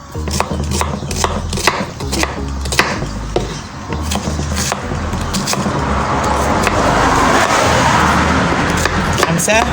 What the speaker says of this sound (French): nous allons couper notre oignon